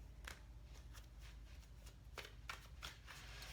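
Tarot cards shuffled close by in quick riffling bursts, each a crisp papery flutter, repeating irregularly and fairly quietly for a few seconds.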